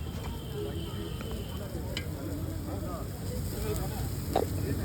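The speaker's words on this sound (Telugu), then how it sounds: "కట్ చేసి బటర్ వేసి ఆనియన్స్ వేసి కార్న్ వేసి ఫ్రై చేస్తారు" Bonda pieces frying with butter, onions and corn on a street-food tawa in Hyderabad, a soft steady sizzle with light scraping and occasional clicks of a spatula, fairly quiet and continuous.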